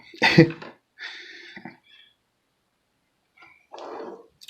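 A sharp throat clearing followed by a couple of softer guttural clears, then a brief pause and one more short rasp, close by.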